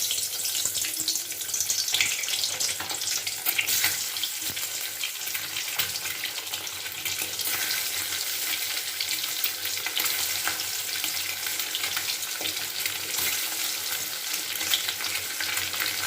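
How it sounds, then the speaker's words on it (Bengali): Eggs fry in hot oil in a pan for a Bengali-style egg curry, giving a continuous, fairly soft sizzle and crackle that stays even throughout, with no voices. "এবারে ডিমগুলোকে একটু ভেজে নিচ্ছি।"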